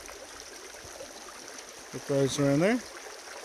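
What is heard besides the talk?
creek stream flowing over gravel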